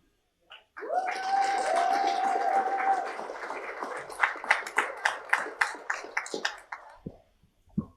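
At a school district board of trustees meeting, a cheering crowd roars and whoops, then breaks into loud rhythmic unison clapping, about a dozen sharp claps in steady beat before fading out.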